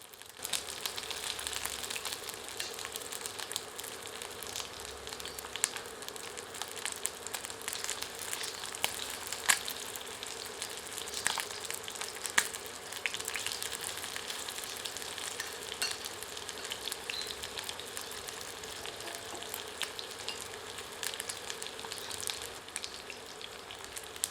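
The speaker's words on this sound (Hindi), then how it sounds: "इस तेल में चिकन के टुकड़ों को आंशिक रूप से तलते हैं, यानी कि शैलो फ्राई करते हैं।" Chicken pieces shallow fry in mustard oil in a pan, a steady close crackling sizzle with scattered sharp pops running evenly throughout, no voices heard.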